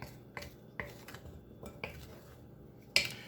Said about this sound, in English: Now I'm going to add my blueberries, and they are frozen, absolutely frozen.